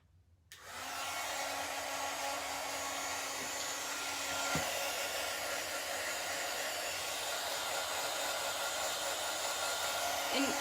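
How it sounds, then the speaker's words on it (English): A hair dryer switches on and blows steadily to dry a boho pumpkin craft, a constant close whooshing hum with no talk over it. "I'm gonna dry this first."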